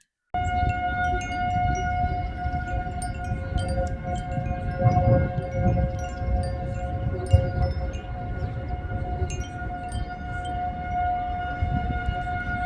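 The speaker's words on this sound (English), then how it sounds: "when the tornado sirens are going off" Outdoor tornado warning sirens wail continuously in steady sustained tones, distant and droning for the whole stretch, with no talking.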